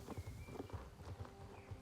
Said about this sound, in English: New horses are over there.